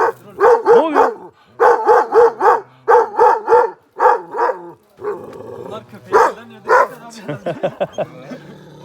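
A dog barks repeatedly up close in quick bursts, loud and sharp, with yips and whimpering sounds toward the end.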